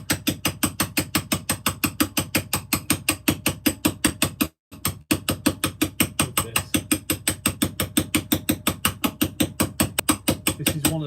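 A chisel taps stone during hand carving in a workshop, a fast, steady run of sharp, close, evenly spaced strikes that continues for several seconds, breaks for a moment, then resumes at the same brisk rhythm.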